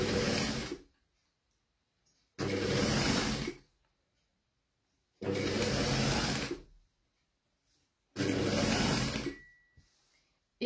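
A sewing machine stitching piping in four separate bursts of about a second and a half each, separated by silent pauses, running loud and close with a steady whirring hum, no talking.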